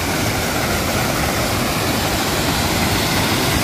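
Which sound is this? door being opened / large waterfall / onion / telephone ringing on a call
large waterfall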